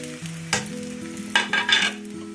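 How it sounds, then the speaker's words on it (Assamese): Leaves and green chillies sizzle as they fry in a pan for an egg and potato dum, with a steady hiss, a sharp burst as they hit the oil, and a few stirring scrapes, close by with no talking. "এইখিনি অলপ দেৰি ভাজিম"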